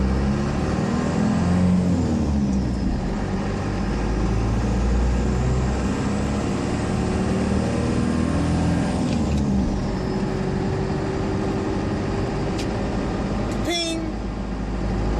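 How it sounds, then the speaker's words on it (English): A 4BT Cummins-swapped Ford F150 drives off-road with a loud, continuous drone of engine and tires, broken by a few sharp pings of rocks flying out of the treads near the end. "Now we get to hear all the rocks fly out of my tires."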